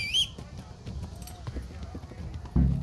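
A horse gallops in the medieval video game Kingdom Come: Deliverance, its quick, faint hoofbeats thudding in a steady rhythm, ending in a louder thump.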